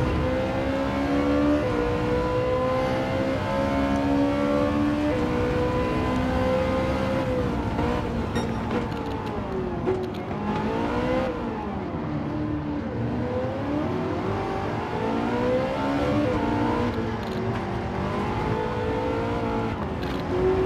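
Race car engines in Gran Turismo 7 roar steadily and loudly, pitch rising and falling with acceleration and gear changes as cars, including a Porsche ahead, battle close together.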